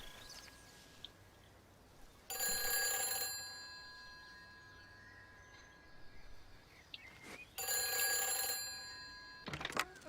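A telephone rings in two long bursts inside a quiet, eerie village in Everybody's Gone to the Rapture, shrill bell tones with a pause between, over a low ambient hum.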